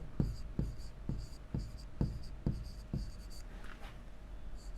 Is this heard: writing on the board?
yes